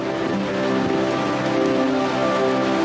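Heavy rain falling in the wild, a dense, steady wash of drops at a constant loud level with no pauses throughout.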